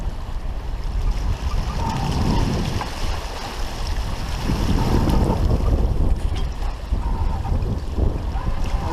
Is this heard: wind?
yes